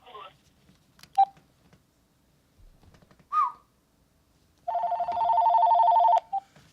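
Telephone dialing tones on a live call-in show: a few short chirps and beeps, then a sustained multi-tone electronic dialing burst lasting over a second, heard with faint background sounds.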